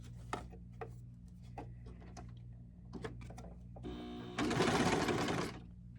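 Sewing machine stitching the seams of a small cotton T-shirt for an 18-inch doll, starting with light clicks and a short hum, then a loud, steady burst of fast stitching for about a second before stopping.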